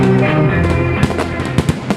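Fireworks burst over a city at New Year, loud sharp bangs and crackles popping irregularly over a continuous rumbling din of distant explosions.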